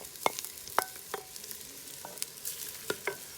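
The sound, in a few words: onions, garlic and ginger frying and being stirred in pot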